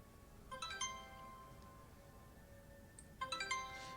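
A phone ringtone sounds in two bright, melodic bursts about two and a half seconds apart, fairly quiet over low room noise.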